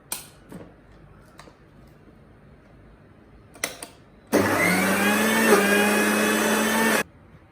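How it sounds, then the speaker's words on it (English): A mixer grinder grinding chopped ginger and green chilies starts abruptly with a loud, steady whirring roar, runs for under three seconds and then cuts off, after a few quiet kitchen clatters. "Now let's put this to grinding."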